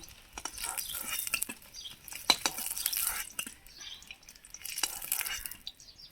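Browned fried eggs being stirred and lifted out of a pan of oil, a faint sizzle with soft scraping and utensil clinks in irregular bursts, for an egg curry.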